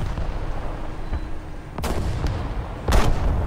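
Gunfire in the War Thunder combat game: a few sharp, loud shots and booms crack out at irregular intervals over a steady rumbling background.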